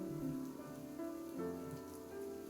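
Steady video game rain falling on surfaces, a soft continuous patter with faint tonal music beneath, no voices.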